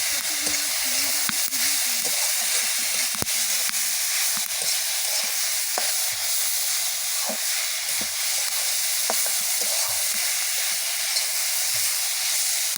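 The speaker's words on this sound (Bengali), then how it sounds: "সজনে ফুলটা এবার প্রায় ভাজা শেষ হয়ে গিয়েছে" Drumstick flowers frying in oil in a pan in a village kitchen, giving a continuous loud sizzle and hiss with occasional clinks and stirring scrapes, no talking.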